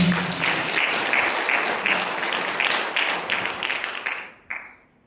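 A church congregation claps hands together in a steady rhythmic beat, many hands at once filling the room, before the clapping trails off and stops near the end.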